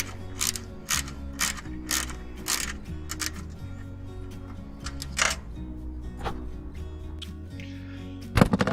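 Ratcheting bolts down on a Jennings seat base in a Peugeot Boxer campervan conversion: close, repeated clicking bursts of a ratchet wrench in short spurts, ending with a louder metallic clunk.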